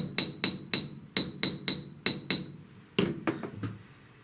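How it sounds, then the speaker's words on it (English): A series of sharp metallic hammer strikes, about a dozen in quick uneven bursts, close and clear with brief ringing after each blow. "I'm just going to hammer real quick, just a little bit lower"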